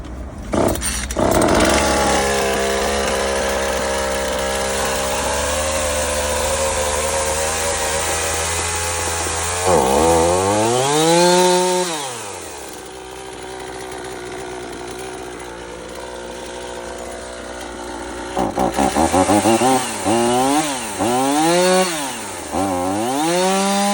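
A new Oleo-Mac GS 451 petrol chainsaw running after a start, a steady close idle buzz broken by repeated loud throttle revs that swell and drop back.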